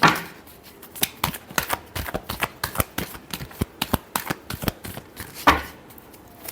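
Tarot cards being shuffled by hand, a rapid series of crisp riffling slaps and flutters in an uneven rhythm, close and fairly loud, with no talking.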